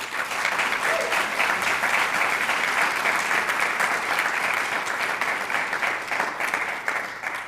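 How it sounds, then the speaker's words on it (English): An audience at a university baccalaureate ceremony gives a sustained round of applause, dense and steady clapping that fills the space evenly for several seconds before easing slightly at the end. "Can we give them all one more round of applause,"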